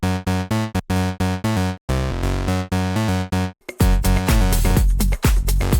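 A Serum synth preset called Pathway, built from saw wavetables with tube distortion, plays a bright buzzing chord pattern of short rhythmic stabs and a few sustained notes, then a denser, distorted passage to finish, loud and upfront.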